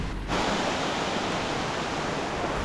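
A waterfall in the Karnataka Western Ghats roars as a dense, continuous broadband rush, steady and fairly loud throughout with no talking.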